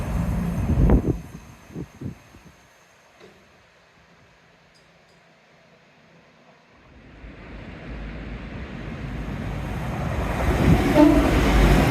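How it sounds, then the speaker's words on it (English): A few heavy chuffs sound early, then a lull, before the rumbling roar of a steam train grows steadily louder as it pulls in. "it's a steam train coming in"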